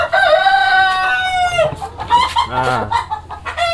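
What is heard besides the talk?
Pelung and Lihnan chickens crowing and clucking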